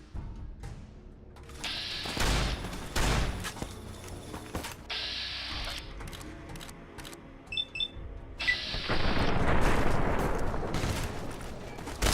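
Gunfire rings out in the post-apocalyptic game Fallout New Vegas: repeated loud shots and bursts cracking over a noisy ambient bed, with a few metallic mechanical clicks and a heavier stretch of firing near the end.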